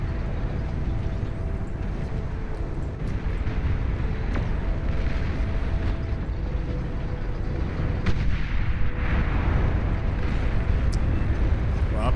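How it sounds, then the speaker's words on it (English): Continuous heavy rumbling explosions from a bombing run in the real-time strategy game Beyond All Reason, a dense unbroken roar of blasts with scattered sharper cracks throughout. "That beautiful bombing run."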